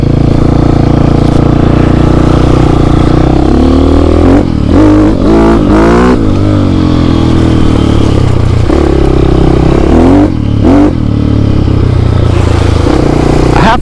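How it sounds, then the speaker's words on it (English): A GPX motorcycle with the exhaust baffle removed revs loudly and close, its deep, gruff idle rising into several sharp throttle blips around the middle and again near the end, with no talking over it. "The exhaust sounds really mean without the baffle in there."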